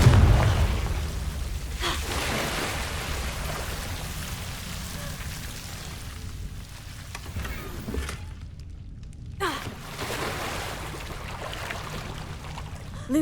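Confringo blasting-curse explosions in Hogwarts Legacy, heard as a few sharp bursts breaking through a steady, rain-like rushing hiss that fills the whole stretch.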